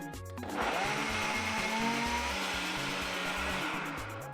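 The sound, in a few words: blender blending garlic, ginger and pepper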